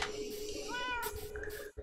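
Cartoonish cat meows from the Minecraft video game, a few short rising mews in quick succession over steady game background sound and faint voices.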